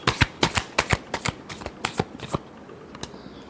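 Tarot cards are shuffled by hand in quick rhythmic riffles, a dozen or so crisp close-up flutters in bursts, trailing off near the end with no talking.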